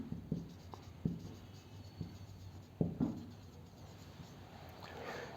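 Pen or marker strokes on a board as a journal entry for an insurance claim is written, a few separate scratchy marks spaced about a second apart, close and quiet with no voice.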